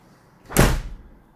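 The last in a series of recording studio doors, near the drum room, swings shut with one solid, close thump and a brief airy rush, then quiet room tone.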